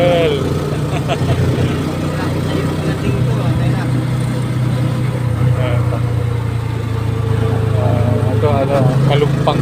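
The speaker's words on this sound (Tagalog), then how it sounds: "Tricycle." A motorized tricycle engine chugs steadily while riding through city streets, a continuous mid-pitched motor drone with passing traffic, with people talking over it throughout.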